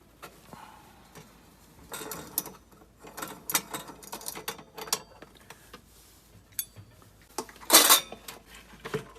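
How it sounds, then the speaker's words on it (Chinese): Screws are removed and a reverse-threaded fan blade is taken off an air fryer that won't power on, producing scattered close metallic clinks, ticks and rattles in irregular bursts, with one louder clatter near the end. "继续拆，这边好多螺丝，这风叶也要拆下来，这是反丝的。"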